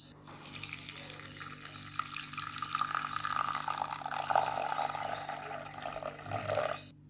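Clean tap water runs steadily from a faucet into a bowl, a close, continuous splashing pour that starts abruptly and stops near the end, with no talking.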